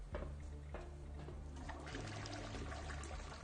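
Water running in a bathroom within the post-apocalyptic sci-fi game Encased, a steady trickling and pouring flow at low level, continuous and alone throughout.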